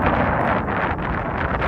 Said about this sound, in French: Et maintenant, il y a du vent.